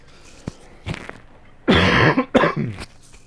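A couple of faint taps, then two loud, harsh coughs close up, the second breaking into a short rasping burst.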